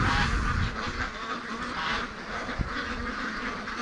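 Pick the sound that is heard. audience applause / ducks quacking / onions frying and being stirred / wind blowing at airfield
ducks quacking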